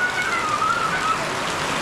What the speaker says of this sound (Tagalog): Yung ulan nga. Malakas na yung ulan.